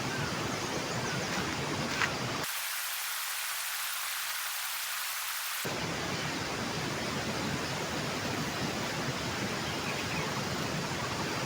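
A river rushes steadily as a dense, even roar at close range. The bass briefly drops away partway through, then returns, and no one speaks over it.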